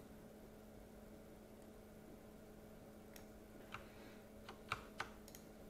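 Faint, sparse clicks of a computer keyboard and mouse during photo editing, a handful of separate taps near the end over a steady low electrical hum.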